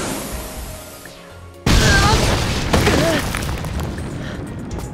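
A bomb blasts in a film about a deadly game played on an island. The loud boom cuts in abruptly and leaves a sustained roaring rumble with scattered debris noise.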